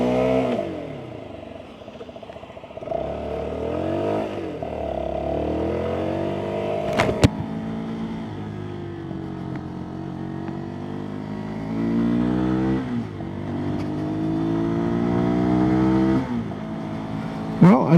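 A Sinnis SM-R 125 motorcycle rides along a road, its small single-cylinder engine steadily droning and rising and falling in pitch through gear changes, with wind rush and a brief clunk midway.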